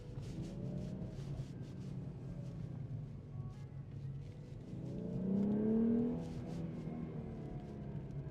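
The VR6 engine of a 1993 VW Corrado hums steadily from inside the car, then rises in pitch as it accelerates and settles back, a continuous low rumble with no talk.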